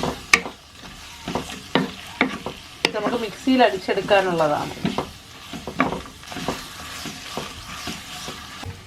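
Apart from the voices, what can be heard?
sautéing Kashmiri chillies in hot oil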